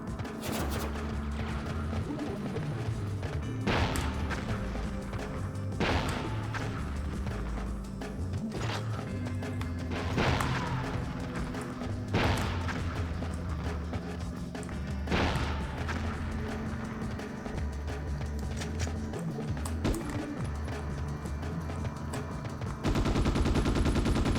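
Turrets in the PS2 game Ghost in the Shell fire repeatedly: sharp, loud gunshot bursts land every couple of seconds over a dense, continuous layer of game music and ambient rumble.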